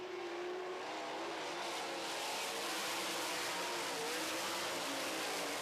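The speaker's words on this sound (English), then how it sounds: "Once again, Paul McMahon in the 45 car pulls away, but here comes the 2 of Blaney." Sprint race cars roar past on a dirt track during a heat race, a loud continuous engine drone with revving and pulling away, no commentary audible.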